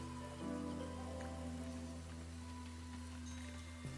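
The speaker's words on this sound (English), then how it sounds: "It's raining nice and hard, so I'm hoping this collects a little better now." Steady, moderately loud rain falls in the city-building video game Against The Storm, an even hiss over sustained soft musical tones with no voices.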